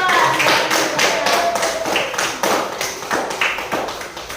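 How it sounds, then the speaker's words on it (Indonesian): A class claps for a presenting group, a run of distinct, fairly loud hand claps in an uneven rhythm, with a few voices murmuring beneath. "Tepuk tangan untuk kelompok 2"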